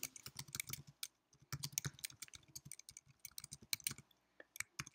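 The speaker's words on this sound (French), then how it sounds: "c'est tout simplement de taper la phrase en entier" Quick bursts of typing on a computer keyboard, close and fairly quiet, with irregular clusters of key clicks separated by brief pauses.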